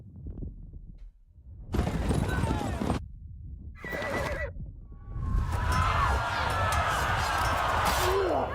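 A horse in Kingdom Come: Deliverance II neighs loudly in several close bursts, and hooves then clatter into a gallop over game ambience, with some speech mixed in.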